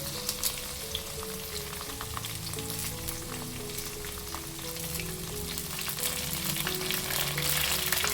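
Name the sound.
chopped onion, chili and curry leaves frying in oil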